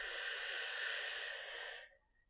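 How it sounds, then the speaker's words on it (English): A long, steady inhale through the nose during a yoga breathing exercise, close and airy, holding even for nearly two seconds before cutting off into silence. "Inhale"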